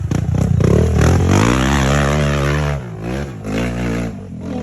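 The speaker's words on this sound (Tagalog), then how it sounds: "Motor ko yan! Motor ko yan! Kailangan ng power ng motor eh." A trail motorcycle's engine revs loudly on a dirt trail, its pitch rising and falling in surges and then easing off to a lower rumble.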